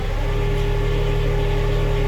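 A homemade diesel engine built for a submarine runs steadily at a raised speed, a loud continuous drone with a strong low throb and fixed harmonic hum throughout, close by and with no voices.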